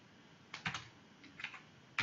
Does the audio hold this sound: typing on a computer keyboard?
yes